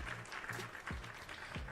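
A short burst of applause sound effect plays at low level, a light, scattered patter of clapping lasting under two seconds.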